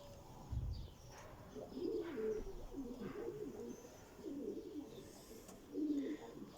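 Adana local-breed pigeons brooding on eggs in a coop give repeated low, throaty coos in rolling bursts, close and fairly clear over a soft background hum.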